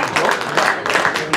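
An audience applauds a keepy-uppy contestant at an outdoor juggling competition, a brief burst of scattered clapping with a few stronger beats.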